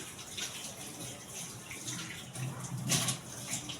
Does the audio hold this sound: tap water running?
yes